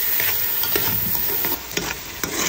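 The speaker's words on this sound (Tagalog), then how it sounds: "Lagay na po natin yung kamatis. Ayan, haluin po natin sa hanggang sa madurog po yung kamatis guys dyan." Tomatoes are stirred in a hot frying pan: a constant sizzle with repeated scraping utensil strokes, close and loud with no voices.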